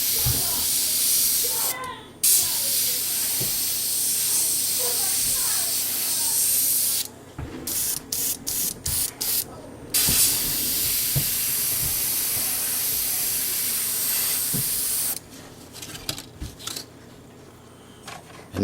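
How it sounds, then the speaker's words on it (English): Long bursts of aerosol spray paint hissing close by while painting a flame effect on an RC car shell, steady blasts broken by short pauses and a rapid run of quick spurts, with faint sounds beneath. "I'm going to spray the inside edge of the shield here as well"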